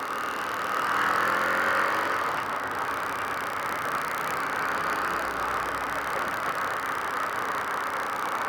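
A 2017 Harley-Davidson Street Rod rides through Los Angeles traffic, its engine a steady, close drone under heavy wind and road rush that stay even throughout.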